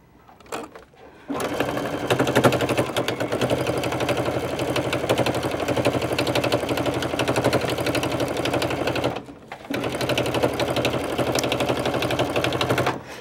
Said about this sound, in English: I'm going to sew each side on like this.